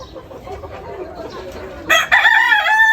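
A rooster among a flock of Fayoumi chickens crows loudly and close by in the second half, the call breaking in suddenly and holding steady over soft clucking and low background murmur.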